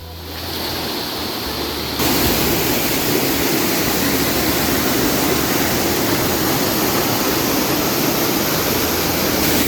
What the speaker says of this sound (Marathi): तुम्हाला एकच धबधबा नाही तर असा अनेक हे छोटे मोठे धबधबे पाहायला मिळणार आहेत